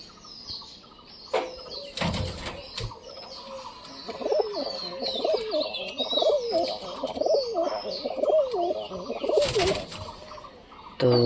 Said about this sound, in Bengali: আর এদিকে ধর দেশি কবুতর দেখো,